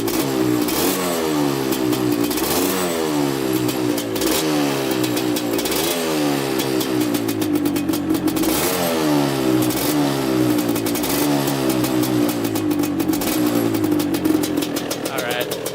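A two-stroke 250cc quad engine revs repeatedly, rising and falling in pitch with a buzzy, raspy tone, loud and close throughout.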